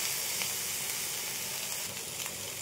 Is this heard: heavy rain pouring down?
no